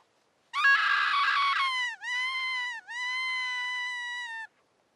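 A voice imitating a dying rabbit's scream, outdoors in Alaska: one long, shrill, wavering wail that breaks into two more drawn-out cries, loud and close with no talk.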